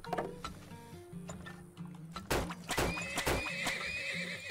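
A horse in the Turmoil video game gives a clear, quavering whinny amid clip-clop hoof clicks and ticking game sounds, fairly close and moderately loud, with no speech.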